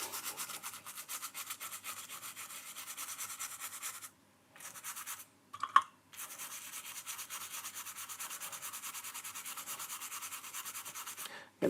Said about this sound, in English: it takes a little bit longer. Scrubbing, scrubbing, scrubbing.